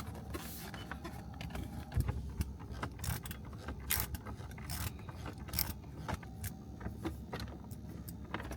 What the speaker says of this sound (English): Once aligned, fasten the two 10mm bolts.